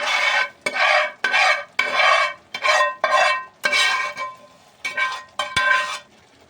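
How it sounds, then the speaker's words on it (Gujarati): A spoon scrapes and stirs through a pan as fenugreek greens are mixed into a garlic gravy, in repeated rough bursts of rasping with short gaps between strokes, close and with no voices. "એને આપણે હવે હલાવી નાખશું."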